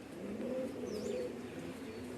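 Pigeons coo softly and continuously in the grounds of the Kamakhya temple, with several overlapping low murmuring calls and a faint chirp above them.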